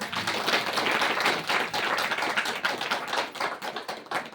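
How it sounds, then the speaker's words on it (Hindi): An indoor audience at a women's health gathering claps for Jaya Didi, many hands beating in a dense, uneven patter that carries on for several seconds. "जया दीदी के लिए ताली होना चाहिए ना?"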